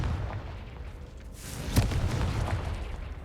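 A Confringo fire spell from Hogwarts Legacy bursts in a single sharp blast midway, set against a steady rumbling game backdrop with no other distinct events.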